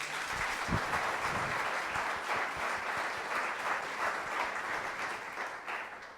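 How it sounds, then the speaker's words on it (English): A lecture audience applauds at a museum director's talk, steady dense clapping from many hands that carries on evenly, with no voices over it, then tapers slightly toward the end. "I also appreciate even more your applauding Nellie for how she is doing this"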